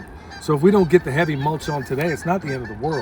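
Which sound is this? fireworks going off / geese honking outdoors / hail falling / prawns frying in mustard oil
geese honking outdoors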